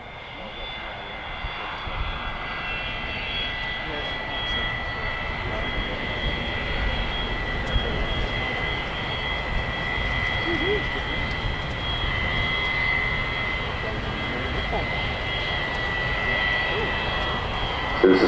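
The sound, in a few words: Boeing 787-9 Dreamliner jet flying at airshow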